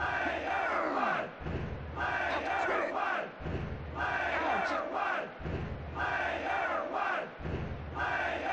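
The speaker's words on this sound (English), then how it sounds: "The crowd goes crazy. They want more." A roaring crowd cheers in the WWF Warzone wrestling video game, a loud, sustained chant that swells and dips in about four repeated waves across the clip.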